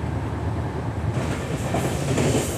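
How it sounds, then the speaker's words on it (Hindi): A passenger train runs through a railway station without stopping on the Lalgarh–Phalodi section, a steady loud rumble with rhythmic wheel clatter and a rising hiss, heard from on board. "इस वक्त हमारी ट्रेन स्किप कर रही है सीड रेलवे स्टेशन को।"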